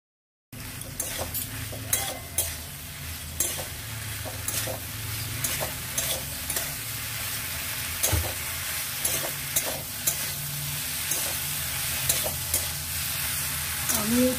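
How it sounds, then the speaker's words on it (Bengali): Fried brinjal and okra stirred into sizzling spice paste for a curry: a steady frying hiss runs throughout while a spoon scrapes and clinks against the pan in repeated strokes, close and fairly loud, with no voices. "ফ্রাই করে রাখা বেগুন আর ভেন্ডি দিয়ে মশলার সাথে ভালো করে নাড়াচাড়া করে"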